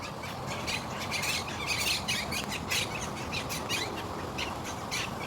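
Green tropical parrots call repeatedly at a lake, harsh squawks and chirps coming in quick bursts over a steady outdoor background.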